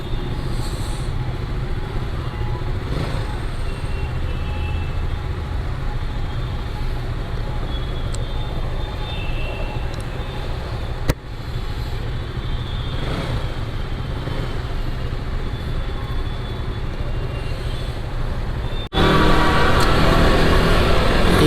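City traffic in Andheri, Mumbai rolls past in a dense, continuous roar of engines and road noise heard from a motorbike, with a sudden jump in loudness near the end.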